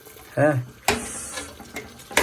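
Water poured into a pot of rice in a kitchen, short splashing gushes in two bursts with a gurgling fill between, close and loud.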